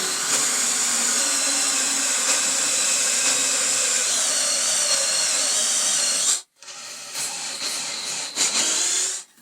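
A power drill whines loudly and continuously while boring a 1.5-inch entrance hole in a wooden birdhouse, briefly cuts out, then revs up again for a few more seconds before stopping.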